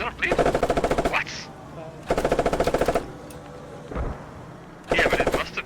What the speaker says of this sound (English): Shoot a few rounds inside the hab.